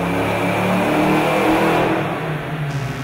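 A 1993 Ford Mustang GT Fox Body with stage 3 upgrades roars under full throttle on a dyno, a loud, sustained engine rev that swells and holds close by.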